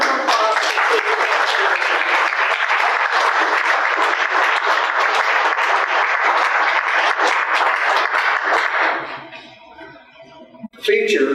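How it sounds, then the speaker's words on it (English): Audience applause fills a town hall meeting on a proposed property tax increase, steady and loud for about nine seconds before fading into scattered claps and room noise. "Please give our panel a round of applause."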